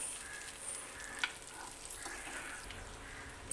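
Eggs frying in oil in a pan, a steady dense sizzle throughout with a few faint clicks, close and fairly quiet.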